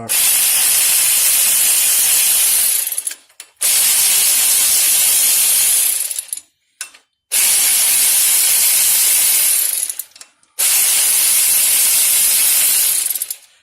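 An air ratchet runs in four loud, hissing bursts of about three seconds each, separated by short pauses, while work is done on a 1993 Acura Integra during a 5-speed conversion.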